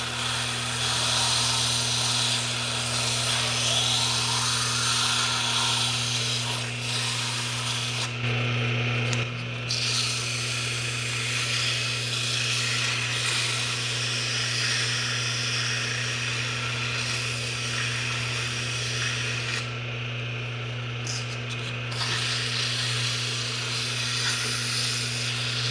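Emery cloth rubbing a spinning motor shaft to take off surface rust, a continuous close rasping hiss over a steady motor hum, with two short breaks in the rubbing.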